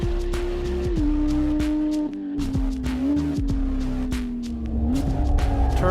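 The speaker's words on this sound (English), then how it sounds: "Turn in late, little rear wiggle, little bit of lift, and then bam on the throttle." A Porsche GT3 RS drifting on a race track at Thermal Club, its engine holding a steady high drone as the tires squeal through the slide, with brief drops when the throttle is lifted and rising again near the end.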